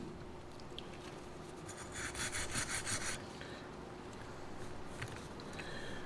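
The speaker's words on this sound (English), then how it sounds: "I'm just going to kind of clean up with a wire brush around this a bit" A wire brush scrubs around the fuel pump retainer of a Shelby GLHS. The rasping strokes are quiet and close, loudest in a short burst near the middle, with no talk.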